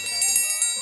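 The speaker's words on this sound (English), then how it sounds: "who can forget the dinner bell?" A dinner bell rings in a bright, metallic peal with a few quick strikes that ring on together, loud and close, with no voices.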